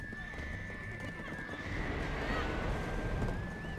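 Many horses gallop and whinny together in a Black Desert horse race, a busy, steady clatter of hooves with a thin whistling tone above it and some faint voices mixed in.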